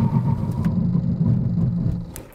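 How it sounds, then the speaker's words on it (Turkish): A 2025 Hyundai Bayon Elite with a 1.0 T-GDI engine and DCT gearbox brakes hard from 100 km/h during a brake test. A steady low road and engine drone continues throughout and eases slightly as the car slows. "100'le giderken GPS hızımız 98. Fren testi şimdi."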